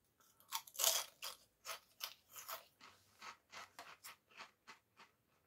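Cornados cheese and bacon corn snacks crunch sharply with a loud first bite, then chewed in a regular run of about a dozen crisp, close crunches that fade toward the end.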